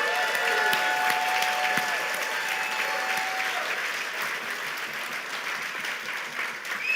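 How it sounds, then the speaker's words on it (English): Sustained audience applause at a New Year's banquet, a dense, steady wash of clapping from a large crowd lasting throughout, with faint tonal ringing early on. "please give them another round of applause"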